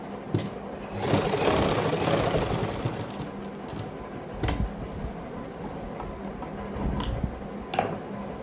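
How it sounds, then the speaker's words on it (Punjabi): Sewing machine stitching the neckline of a suit, with bursts of rapid mechanical whirring separated by pauses and a few sharp clicks, close and clear with no talking. "ਇਸ ਤੋਂ ਬਾਅਦ ਦੂਜੀ ਸਾਈਡ ਆਪਾਂ ਸਲਾਈ ਲੈ ਕੇ ਜਾਵਾਂਗੇ"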